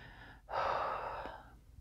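A single long, close breath from a morning meditation breathing exercise, a soft airy rush that starts after a brief pause and fades out gradually.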